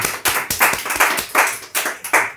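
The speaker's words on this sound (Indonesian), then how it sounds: "Kasih tepuk tangan dulu dong" Hands clap in a quick, regular rhythm, roughly eight crisp claps up close and fairly loud, each strike sharp with a short decay and no talking over them.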